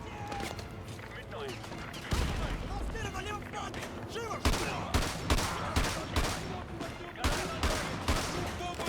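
Heavy bursts of AA-12 automatic shotgun fire in Call of Duty: Modern Warfare 2 Remastered, with loud repeated blasts in quick succession mixed with battle noise and shouted voices.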